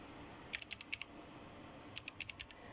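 Two short bursts of quick key presses on a computer keyboard, each a rapid cluster of soft clicks, with a quiet pause between them.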